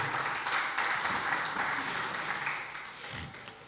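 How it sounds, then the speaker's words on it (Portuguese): A church congregation applauds loudly and steadily, sustained clapping that tapers slightly toward the end. "Fique de pé, aplauda o Senhor"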